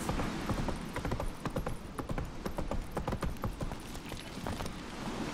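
Horse hooves in The Witcher 3 clatter in a quick, steady rhythm, with a busy wash of game ambience behind them, and no talk over them.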